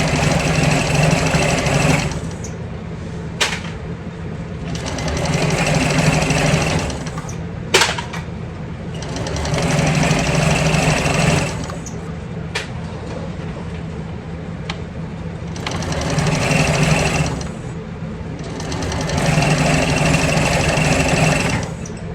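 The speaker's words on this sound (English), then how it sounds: "Back stitching." A sewing machine back stitching a handbag runs in steady bursts of rapid mechanical stitching, close and loud, with brief pauses between runs and no talking.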